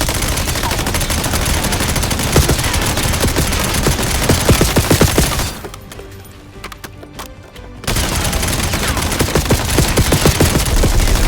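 Gunfire in Call of Duty Black Ops 7, a dense continuous barrage of shots with a brief lull partway through before the loud firing resumes.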